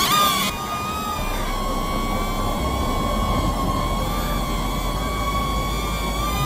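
A DJI Neo mini drone's propellers whine steadily close by, a continuous high buzzing hum with layered harmonic tones that holds level throughout, with no talking.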